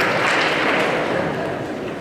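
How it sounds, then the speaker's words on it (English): A school assembly audience applauds a returning Guatemala trip group, steady dense clapping filling the hall at close range and tapering slightly toward the end. "Round of applause for Bill and all the Guatemala people here."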